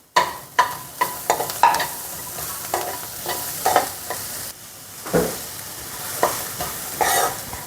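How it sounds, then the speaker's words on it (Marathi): Carrots and onion sautéing in a pan, with repeated scraping stirs of a spatula over a low sizzle, loud and close, the strokes coming in irregular bursts every second or so. "आता आपला कांदा परतला की त्यामध्ये हे जे गाजर घेतलेले आहेत हे छान परतून घ्यायचे"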